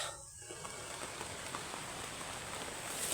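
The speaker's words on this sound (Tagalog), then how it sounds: "Ngayon umuulan na, bata." Steady rain falling outdoors, a constant dense hiss of drops that runs the whole time with no break and no voices.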